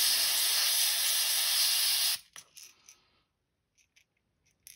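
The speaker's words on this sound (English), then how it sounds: "I spray at 20 PSI, everything I do." A steady airbrush hiss sprays paint at 20 PSI onto a crankbait fishing lure for about two seconds, then cuts off abruptly, followed by a few faint clicks and near silence.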